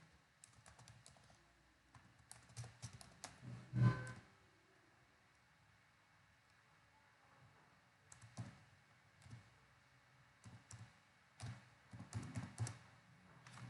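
Quiet, close clicking of a computer keyboard as someone types text into a document header, coming in irregular bursts of keystrokes separated by short pauses.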